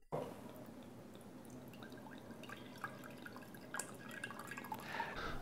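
Water, ideally distilled or mineral, is poured into a glass container around a small shot glass, with a faint trickle and drips that grow fuller toward the end, quiet and close.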